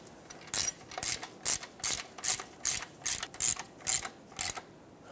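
A ratchet snugs up the nuts on a CV axle carrier bearing cap of a 2012-2022 Ford Focus, giving about ten evenly spaced clicking bursts, close and crisp, with no talking.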